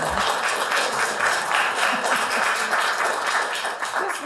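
Audience applause at a local reading event, a dense, steady wash of many hands clapping that holds at full strength throughout without any voices over it.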